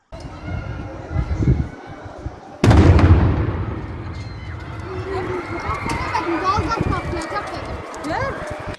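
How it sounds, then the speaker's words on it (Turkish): A sudden loud blast of an exploding camping gas canister cuts in, followed by a sustained roaring rush with excited voices shouting nearby. "diğer piknik tüpü bomba gibi patladı"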